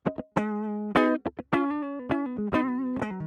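A clean electric guitar plugged directly into an SP-404 MK2 sampler with no amp simulator plays a short phrase of plucked single notes, dry and thin, with brief silences between picks.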